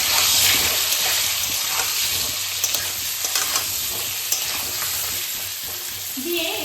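Potatoes with salt and turmeric frying in oil in a pan for a home-style mutton biryani, a steady close sizzle with occasional stirring scrapes, no talk over it.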